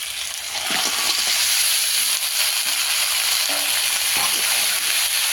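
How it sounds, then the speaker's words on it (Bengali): Broken sea crabs drop into hot masala of ginger, garlic and tomato in a pan, setting off a loud, continuous close sizzle with a few faint clinks and scrapes, no voices. "ভেঙে রাখা এই কাঁকড়াগুলো দিয়ে দেবো এর মধ্যে।"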